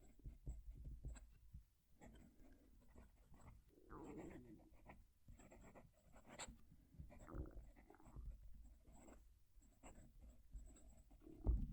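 A Visconti fountain pen nib scratches across paper in close, quiet strokes, with soft irregular bursts of scribbling and brief pauses between words.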